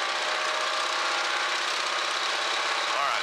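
A North American T-6 Texan's radial engine runs up to 2,000 RPM, a loud, steady, rough drone from inside the aircraft, with a voice faintly underneath.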